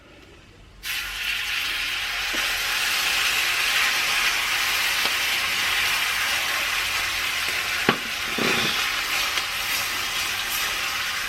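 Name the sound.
steaks frying in butter mix in pan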